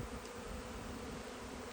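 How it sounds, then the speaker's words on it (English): Bees swarm around a newly set up beehive, a continuous, fairly faint insect buzz hanging steadily in the air with no voices. "Look at all of those bees."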